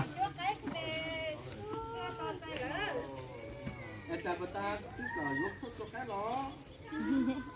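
Farm chickens cluck and call in a busy, continuous chorus at a rural home, fairly faint, with people talking alongside throughout.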